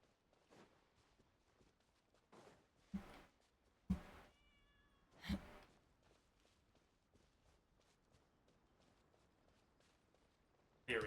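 A cat meows a few times, short clear calls spaced between soft footsteps and light thumps in a quiet indoor room, with a brief voice in the background.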